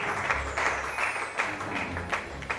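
Studio audience applause on an Italian children's TV quiz show, a steady dense wash of clapping filling the short stretch with no voices over it.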